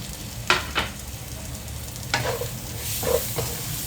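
Chopped tomatoes fry and hiss in a pot of prawn roast masala while a utensil stirs with several distinct scraping strokes spread across the clip, no talking.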